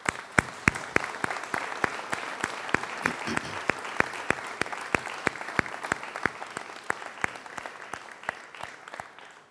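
An audience at a mayor's New Year address applauds steadily, with crowd clapping throughout and a few sharp, close claps standing out above the rest.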